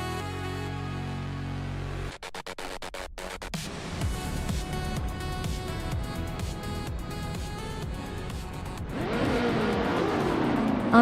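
Race cars accelerating in a racing video game, engines revving up and rising in pitch after a short burst of clicks, growing louder and denser toward the end with several cars roaring together, no talking.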